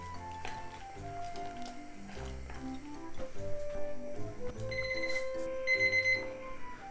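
A kitchen timer rings with a thin electronic beeping that builds near the end, over faint kitchen clatter and noise from cooking Taiwanese-style soup-less noodles.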